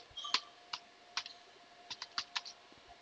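Scattered clicks of keys being typed on a computer keyboard during a Linux terminal session, a few separate taps and then a quicker run of keystrokes, quiet and close with no talking.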